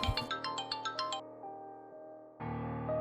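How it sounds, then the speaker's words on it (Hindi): A phone ringtone in a Pakistani drama scene plays a quick run of bright, repeated electronic chimes, then shifts into a steadier sustained tone and swells louder again near the end, with no talk over it. "मासूमा के शौहर का फोन"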